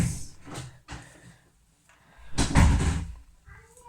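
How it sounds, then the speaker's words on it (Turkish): A household door handled and closed nearby, with a few clunks and knocks followed by a louder thud as it shuts, and no voices. "Kapıyı kapat."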